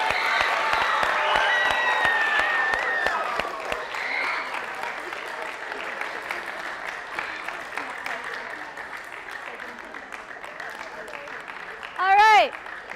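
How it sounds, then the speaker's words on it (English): Students at an 8th grade class meeting give a round of applause for the class advisor, dense clapping that tapers off after about four seconds, leaving murmur and a brief voice near the end. "round of applause for Mrs. Crary."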